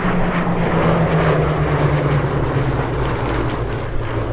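A Hawker Hurricane fighter plane flies at the Sywell airshow in 2024, its propeller engine a steady, loud, continuous drone with a constant low hum and no voices.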